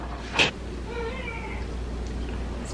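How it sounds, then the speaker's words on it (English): A house cat meows once in a drawn-out, moderately faint cry, heard alone over a steady low background hum in a home kitchen. "My cat."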